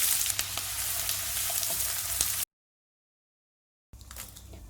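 Onion, mustard seeds and urad dal frying in sesame oil, a steady close sizzle with small pops, cut by a silent gap before the sizzling resumes more quietly.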